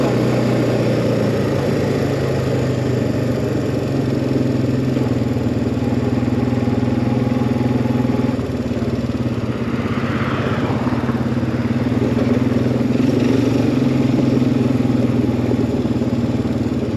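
A 2006 Suzuki Eiger 400 or 2016 Suzuki KingQuad 500 ATV engine cruising steadily in fifth gear, a loud continuous drone with constant throttle and no talk.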